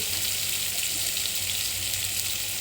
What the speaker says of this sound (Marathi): तेलामध्ये लसूण, कांदा, जिरं टाकून हलवून घेत आहे